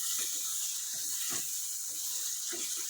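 Masala sizzling in a pan for chicken white karahi, a steady bright frying hiss with soft bubbling pops running throughout, fairly close and even, with no talking.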